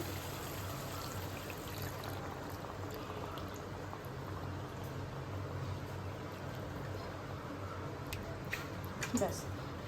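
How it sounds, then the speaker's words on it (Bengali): Water is poured into a pan of paneer and potato curry masala, giving a continuous soft pouring and sizzling bubble under a faint voice, fairly quiet throughout. "এবার জল দিয়ে দিচ্ছি"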